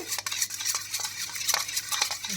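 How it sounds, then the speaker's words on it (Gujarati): A spoon stirs thick plain yogurt in a bowl, smoothing it out, giving repeated scraping clinks against the bowl in a brisk irregular rhythm, close and fairly loud with no talking. "આ મેં પાક અપ દહીં લીધું છે અને એને આપણે હલાવી અને એકરસ કરી દેવાનું છે"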